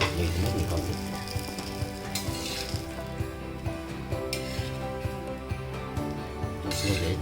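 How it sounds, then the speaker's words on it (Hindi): Aloo tikki, potato patties for a fasting snack, shallow frying in oil in a pan, giving a steady close sizzle and crackle throughout, with a few soft bursts of louder spitting and no talk. "अब ये हमारी टिक्की दोनों तरफ से अच्छी तरह से सैलो फ्राई हो गई है।"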